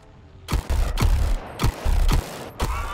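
Gunfire from Boomerang, a character in the video game Suicide Squad: Kill the Justice League, rings out as several loud, close bursts, each a sharp crack with a booming low tail, spaced about half a second apart over a faint background.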